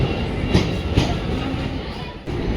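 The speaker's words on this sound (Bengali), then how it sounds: "ট্রেন এসে গেছে আমাদের" A train pulling into Katu station on a Bangalore-bound route rumbles steadily and close, with a couple of sharp clanking knocks early on and a brief dip near the end, no talk over it.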